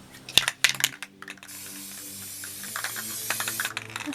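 A few sharp clicks and rattles, then a steady hissing spray from a white spray paint can aimed at a toy horse, running for several seconds, close and fairly loud.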